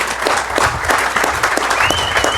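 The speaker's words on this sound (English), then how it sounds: "let's give all of our participants, staff, and especially Scott Keller one last round of applause here" Audience applause at the closing session of an economic summit, a steady wash of many hands clapping at close range, continuous throughout with a faint whistle-like tone near the end.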